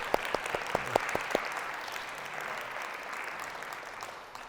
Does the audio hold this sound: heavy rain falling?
no